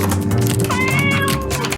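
A small kitten gives one drawn-out, high meow that rises and falls. It sounds loud against a steady, droning background.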